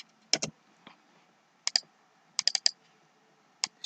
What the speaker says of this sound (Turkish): şunu silip bunu yazıyorum.